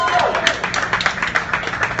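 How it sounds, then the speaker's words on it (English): Audience clapping after a dinner at a Knott's Berry Farm announcement event for the Hangtime ride, a steady patter of applause from a nearby crowd, with a voice speaking over it. "That was a better applause than the ride guys."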